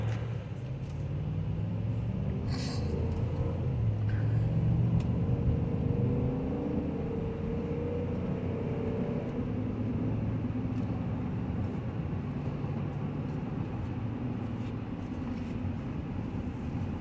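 Steady road rumble and engine drone from inside a 2018 Chevy Suburban on a test drive, a continuous low hum with faint tire noise and no talking.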